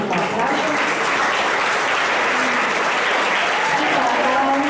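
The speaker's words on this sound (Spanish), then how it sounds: "para ella también un fuertísimo aplauso" Audience at a symposium event gives loud, sustained applause, a dense even roar of many hands clapping throughout with a slight swell toward the end.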